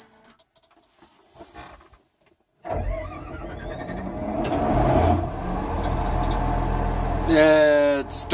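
A Komatsu D65PXI Tier 4 dozer engine cranks roughly after a quiet pause, catches, and settles into a loud, uneven idle. A brief rattling burst comes near the end, and a voice is briefly heard nearby.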